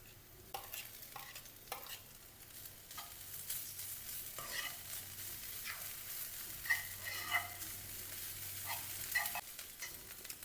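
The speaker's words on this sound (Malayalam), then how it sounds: "അപ്പോൾ നമുക്ക് വലിയ ഉള്ളി ഒന്ന് വഴന്ന് വരുന്ന വരെ ഒന്ന് വെയിറ്റ് ചെയ്യാം" Onions sauté in a pan with crushed ginger, garlic and fennel for a crab curry, giving a quiet, low sizzle broken by repeated scraping stir strokes at an uneven rhythm.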